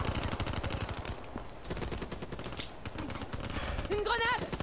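Gunfire from a Black Ops 3 multiplayer match, a dense, continuous rattle of shots heard under game noise, with a short warbling electronic tone near the end.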